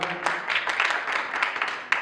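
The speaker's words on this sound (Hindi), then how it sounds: "बजाइए एक बार तालियां।" Scattered audience applause at a GBPL 2024 cricket league auction, moderately quiet and sustained for two seconds with a sharper clap near the end, without clear speech over it.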